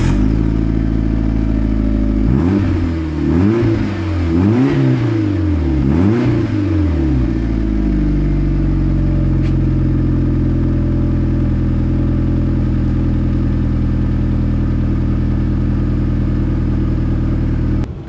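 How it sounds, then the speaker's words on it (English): A Mitsubishi Evo 6 cranks and fires up on a new standard exhaust with a fresh catalytic converter, giving a few sharp revs before settling into a steady, loud, close idle that runs on alone. "I'm going to start it up and see how it sounds."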